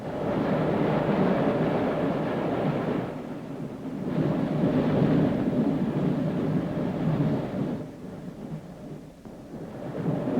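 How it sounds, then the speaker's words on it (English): A London Transport 1936 Piccadilly Line tube train gives a loud, steady rumble that eases briefly around the third and eighth seconds before swelling again, with no voices. "This is London Transport's 1936 Piccadilly Line train."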